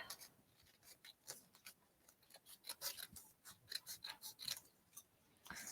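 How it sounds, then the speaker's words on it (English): Scissors snip through paper for a fan garland in quick, close, repeated cuts with uneven rhythm and no talking. "So I'm going to just cut this extra little bit off."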